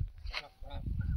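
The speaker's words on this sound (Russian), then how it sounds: "гуси ходят," Farmyard geese honk in a brief, close burst of two or three calls over low rural background noise.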